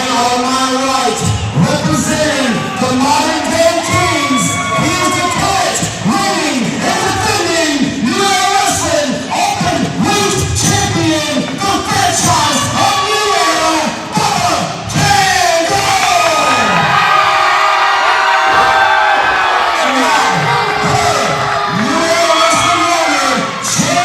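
A wrestling event crowd cheers, roars and shouts loudly and continuously for the full stretch, with whoops and a surge near the end.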